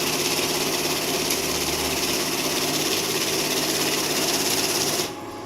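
A multi-currency note counting and value counting machine runs steadily with a dense, continuous whirring rattle, loud and close, then cuts off abruptly near the end, leaving a quieter hum.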